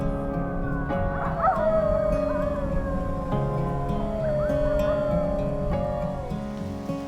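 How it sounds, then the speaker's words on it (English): A pack of wolves howls across the Alaskan tundra, several overlapping long wavering howls that rise and fall at once, with some yips and whimpers mixed in, loud and continuous. "A pack of wolves sounds off across the tundra."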